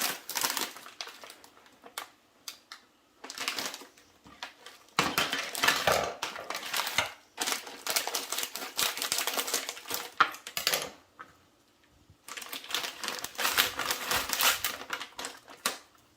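Frozen sweet potatoes are broken apart in a dish, bursts of hard clattering, crunching and clicking separated by short pauses, close and moderately loud.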